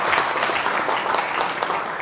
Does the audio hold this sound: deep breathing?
no